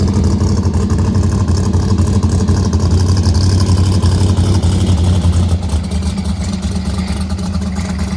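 A car engine revs at close range in a steady, heavy, loud drone that holds constant and then drops slightly in level partway through, with no voices heard.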